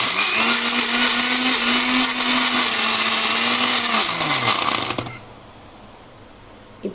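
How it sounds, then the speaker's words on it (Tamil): A mixer jar blender churns cream into butter, a loud steady whir with a wavering motor pitch for about five seconds before spinning down abruptly into quiet. "இப்போ வந்து நம்ம இதை நல்லா மிக்ஸி ஜாரில் போட்டு"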